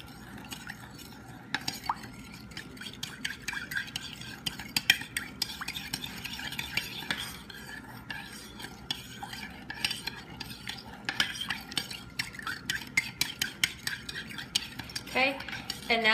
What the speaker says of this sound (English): I'm going to stir until it dissolves.